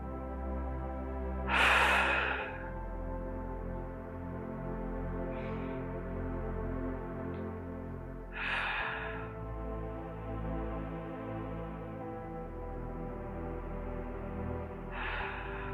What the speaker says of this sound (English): And I like to end just with a few deep breaths.